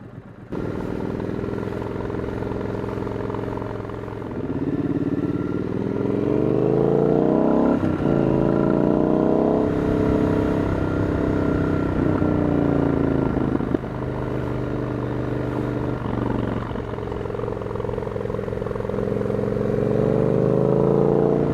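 A Ducati Scrambler motorcycle engine runs steadily throughout while riding, with loud, continuous drone and several rising rev sweeps as it accelerates and shifts.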